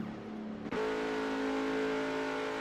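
A car engine in the Mafia: Definitive Edition game, a Mustang, revs up sharply after a brief dip and then holds a loud, steady high whine.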